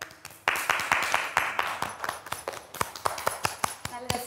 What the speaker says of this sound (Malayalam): ഓക്കെ, എല്ലാവരും കൈയടിച്ചേ